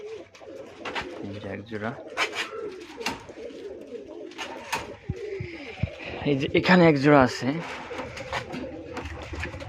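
A pair of white master pigeons coo in low repeated bursts close by, while someone talks over them through most of the stretch.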